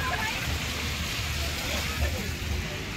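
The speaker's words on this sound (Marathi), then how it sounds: "इथे पाऊस चालू झालेला आहे." Steady rain falls on a misty mountain pass at Malshej Ghat, making a dense, even hiss that runs close and continuous throughout the short stretch.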